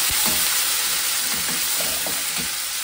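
Vegetables frying in a pan for upma pesarattu, a steady loud sizzle with faint scraping stirs underneath, close and continuous with no voices.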